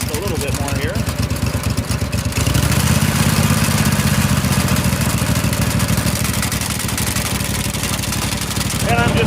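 A Simplicity 2210 garden tractor's V-twin engine runs loud and close with its sickle mower engaged, a steady throbbing drone that rises in intensity partway through as the throttle is opened.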